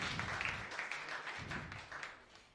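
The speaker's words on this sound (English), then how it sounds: "A round of applause for Brian." Audience applause for a panelist at a panel discussion on African narratives, media and technology, a steady spread of hand clapping heard at moderate distance for a couple of seconds.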